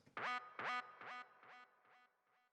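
808 bass soloed through a simple high-pass filter: six punchy, honking hits with a downward pitch slide, each a bit quieter than the last, alone with no talk.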